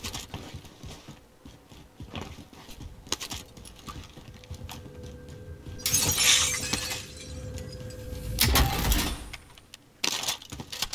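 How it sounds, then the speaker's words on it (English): Glass shatters in a video game: several bursts of breaking and crashing stand out over a constant clatter of keyboard typing. "That's when he's breaking glass."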